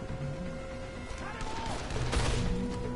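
Gunfire from a hard-recoiling gun in the video game Dead Island, with a few loud shots bursting near the end over dense game ambience.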